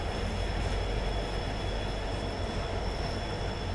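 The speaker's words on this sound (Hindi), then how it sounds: "और ये वैगनाइन भाई साहब आ रहे हैं शोर मचाते हुए।" Rail wagons rumble past at Alwar junction on the Delhi–Jodhpur Rajasthan Sampark Kranti Express route, a steady, loud, dense roar with no voices over it.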